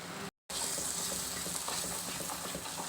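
Coriander paste sautés with masala in a pan for a chickpea curry, giving a steady, close sizzle that runs continuously apart from one brief cut.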